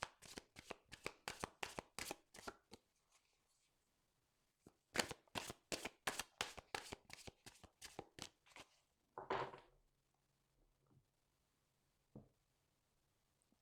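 A deck of blue oracle cards shuffled by hand in quick riffling bursts, two long runs of rapid crisp flutters separated by a pause, then a soft shuffle and a couple of faint taps, close and clear with no talking.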